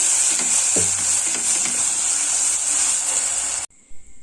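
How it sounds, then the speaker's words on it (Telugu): Onion and tomato masala paste fries in a pan for Hyderabadi mirchi ka salan, a loud, steady sizzle with stirring scrapes near the start that cuts off abruptly near the end. "దీన్ని బాగా ఫ్రై చేసుకుందాం"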